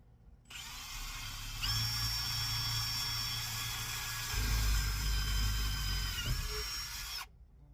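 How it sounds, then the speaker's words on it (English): A power drill whines steadily at a high pitch, running continuously for several seconds with a slight shift in tone near the end before stopping. "So we're going to drill"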